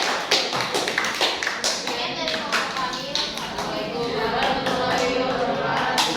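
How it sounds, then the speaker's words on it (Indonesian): A classroom applauds a student group after its presentation, with quick uneven hand claps and taps close by, mixed with children's voices throughout. "Tepuk tangan dulu untuk kelompok 2"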